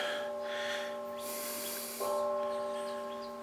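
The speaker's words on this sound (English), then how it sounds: "Church bells." Church bells ring at a distance, their sustained tones overlapping and humming on with a fresh strike partway through, alone without talk.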